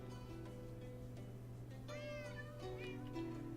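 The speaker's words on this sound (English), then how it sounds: "my wife spawned a whole bunch of cats inside the village itself" Several cats meow inside a Minecraft village, short rising and falling mews spaced over a steady background hum, moderately close and with no talking.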